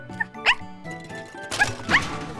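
Short barks from a cartoon dog, two quick yaps spaced about a second apart, heard over a light musical background with a faint jingle.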